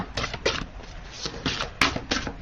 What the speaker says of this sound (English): So I'll just shuffle this way.